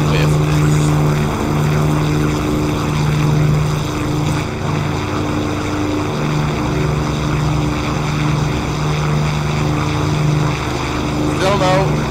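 Piston engines of a Mosquito FB VI in the DCS flight simulator, a loud continuous droning hum with steady tonal harmonics, while a voice talks over it.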